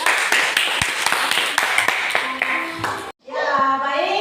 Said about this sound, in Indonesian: Kita beri aplaus dulu buat mereka.